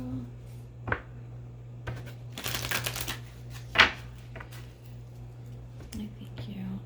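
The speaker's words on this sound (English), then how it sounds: "One more shuffle." Tarot cards are shuffled quietly in short papery bursts, one stronger riffle in the middle, over a low steady hum and soft background rustle.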